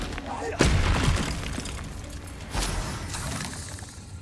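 A Confringo spell going off in Hogwarts Legacy, a sharp blast with a shattering crack followed by a second boom, heard while someone speaks.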